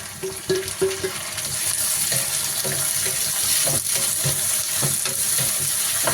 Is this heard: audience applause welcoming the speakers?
no